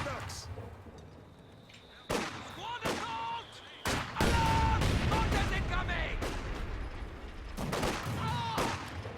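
Heavy mortar impacts and gunfire pound away in a Company of Heroes style real-time strategy match with T-34 tanks and Soviet conscripts, sharp blasts landing over sustained battle noise, with faint voices in places.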